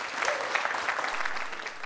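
A short burst of dense, steady applause from a television studio audience.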